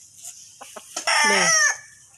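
A gamefowl rooster crows once, loud and close, a long drawn-out call after a few soft clucks and rustles.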